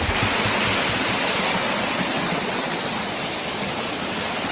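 A waterfall roars in a dense, constant rush of falling water, loud and unbroken, with nothing else heard over it.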